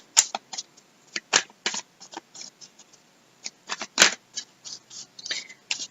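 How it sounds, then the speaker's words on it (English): Oracle cards being shuffled by hand, a run of crisp riffling and slapping bursts in irregular clusters, close up with short pauses between. "I'm going to shuffle the blue cards and see which cards come out here"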